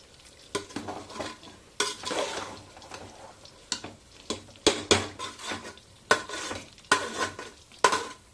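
A non-veg dish being mixed in a pot for a festive Ugadi lunch, with repeated spoon scrapes and clinks against metal in irregular bursts, close and fairly loud, with no talking.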